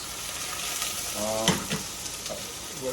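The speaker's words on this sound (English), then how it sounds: "We just need to cook the onions till they're translucent" Chopped onions for a Japanese curry fry in a pan with a steady, close sizzle, with a few brief stirring scrapes partway through and no one talking.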